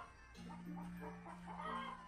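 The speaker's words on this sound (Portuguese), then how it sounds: "Tem um problema com a galinha no vídeo." A chicken clucks in steady, busy bursts over a constant background hum, the fowl sounds close and fairly loud for about two seconds with no speech.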